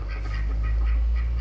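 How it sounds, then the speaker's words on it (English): A duck quacks in a short series of calls, loud and close, over a steady low hum. "It's a duck."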